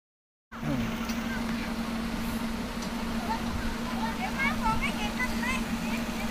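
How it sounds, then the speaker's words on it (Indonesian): A truck pulls away from a river dredging and repair site, its engine a steady low hum that holds throughout. Voices talk faintly over it. "Truknya udah mulai berangkat guys"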